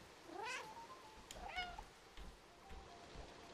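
A cat in the video game Stray gives two clear rising meows near the listener, then softer trailing mews over quiet background.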